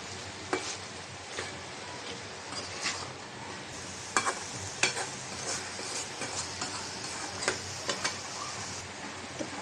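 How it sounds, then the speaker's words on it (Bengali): Fish and tomato sauté in a pan as a utensil stirs and scrapes them, producing an even moderate sizzle with scattered clinks and scraping knocks that grow busier toward the end; nearby, no speech. "তো মাছ আর টমেটোটা আবার একটু কষাই নিব।"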